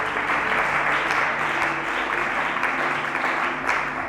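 A church congregation applauds steadily throughout, a dense, continuous wash of clapping at even loudness with no pauses.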